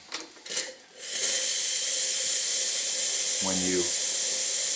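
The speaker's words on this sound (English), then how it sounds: "bleed off some steam, click, boiler element's turned on by this control" Steam hisses steadily from the boiler of an Olympia espresso machine as pressure is bled off, a loud continuous rush starting after a couple of clicks, with a short low mechanical clunk near the end; a voice speaks briefly at the start.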